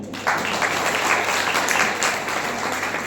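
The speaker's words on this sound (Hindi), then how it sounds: "एक बार चौरंगी मंदिर वाले समस्त श्रावकों के लिए ताली बजाइए" A temple congregation of devotees claps together in a dense, even burst of applause, loud and sustained, with a low hum underneath.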